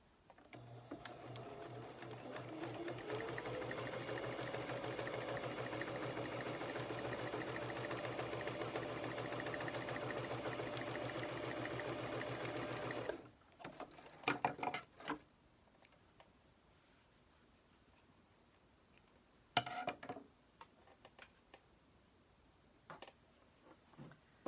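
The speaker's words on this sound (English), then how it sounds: "I'm going to top stitch right along this edge" A sewing machine top-stitches close along a pressed fabric edge, humming steadily and close up for about thirteen seconds before stopping, followed by a few faint handling clicks and taps.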